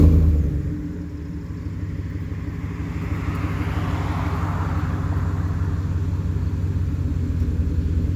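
A 2016 Chevy Silverado with a dual cat-back exhaust rumbles deep and steady on a cold start, a loud, close, continuous idle with no talking.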